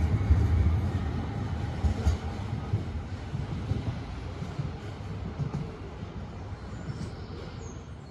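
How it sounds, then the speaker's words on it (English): Birmingham tram 27, bound for Wolverhampton St George's from Edgbaston Village, rumbles past at a distance, a faint steady rolling hum that slowly fades over several seconds with no talk. "there goes tram 27 to Wolverhampton St George's from Edgbaston Village."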